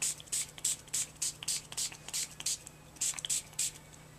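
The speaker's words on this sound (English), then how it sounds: "and I'm going to go ahead and spritz" Short spritzes of Shimmerz spray paint misted onto paper in a steady rhythm of about a dozen quick hisses, close and soft, with no talking.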